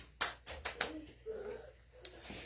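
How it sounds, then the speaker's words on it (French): A few scattered hand claps from a church congregation during a Sunday worship service sound at moderate level, mixed with voices and background murmur. "On applaudit, on applaudit."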